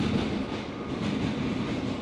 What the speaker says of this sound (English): Tonight's story, 14 stops on the F train.